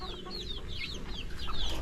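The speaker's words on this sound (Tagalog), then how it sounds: "Nandiyan na rin sa baba yung mga manok na decal brown at Rhode Island" Several chickens, including Rhode Island Reds, cluck and squawk close by, overlapping calls rising and falling over a steady low background hum.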